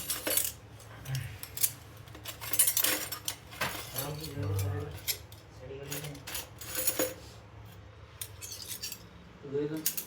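A few light metallic clinks of a spoon against a dish of Maggi noodles, scattered and soft, with quiet talk nearby.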